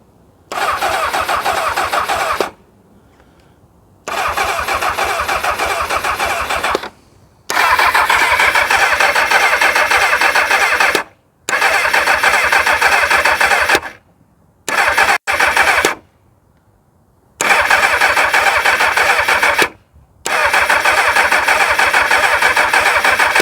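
A 1999 Kawasaki ZX6R motorcycle engine cranks over repeatedly with the starter without catching, several loud bursts of churning separated by short silences, close by.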